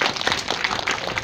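Brief, moderately quiet burst of many hands clapping together at an election office event, a dense, even patter with no voices.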